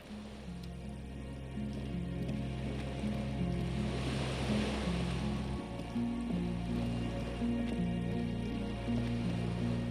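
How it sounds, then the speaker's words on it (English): Water laps and sloshes against a small skiff moored by a dock in the video game Disco Elysium, a steady soft wash of waves over a low droning ambient bed. "The skiff is swaying on the waves by the dock."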